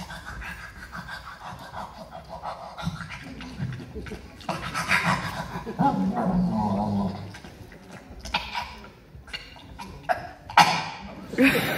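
A voice imitates a dog hacking up a fur ball, with wheezy pants, gagging coughs and snorts in uneven bursts over about ten seconds, loud and close, with brief audience laughter.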